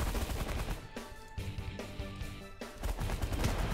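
Minigun fire in the space strategy game The Last Federation rattles out in loud, dense continuous bursts, with a couple of brief gaps between volleys and no voices over it.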